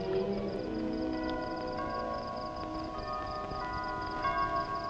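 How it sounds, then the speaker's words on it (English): A church bell's lingering tones hum steadily in the distance, the resonant ringing sustained beneath a noisy, rumbling background with no talking. "The bell may sound to mark the passing of the hours"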